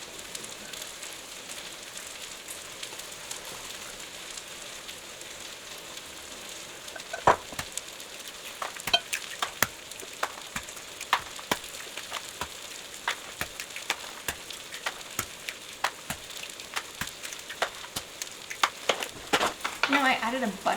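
Breakfast burrito filling frying in a pan turned up to higher heat, a steady soft sizzle with sharp popping crackles that grow more frequent partway through.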